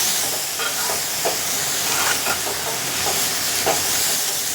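Green papaya with chilies frying in a pan gives off a loud, steady hiss and sizzle with faint stirring scrapes, close and continuous, with no one speaking.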